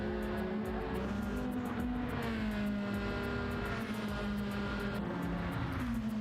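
Race car engine screaming at high revs during a sim race at Monza, a sustained loud whine with shifting harmonics, steady throughout with no gaps.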